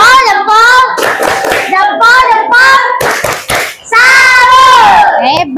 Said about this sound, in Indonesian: Kita kasih tepuk salut untuk tim kuat.